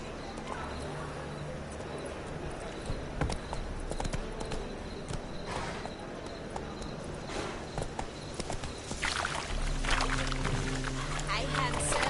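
Horse hooves clip-clopping in a steady rhythm while riding in Witcher 3, with background music and game ambience, and a voice talking over it.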